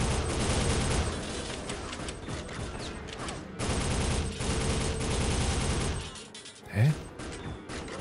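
Gunfire crackles from every direction in the Soldier of Fortune shooter, a dense fusillade of rapid shots and bursts that drops out briefly before a sharp final crack, with a short spoken interjection.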